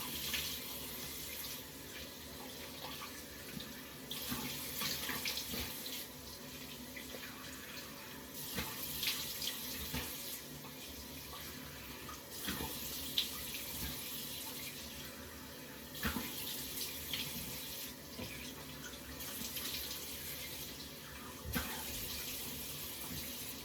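Tap water runs steadily into a bathroom sink while someone rinses face wash off their face, with soft splashes and uneven surges from cupped hands, close and moderately loud with no talking.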